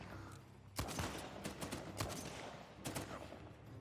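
Gunfire from a gun in the video game Uncharted 4, a burst of rapid close shots followed by scattered further bursts over a noisy background.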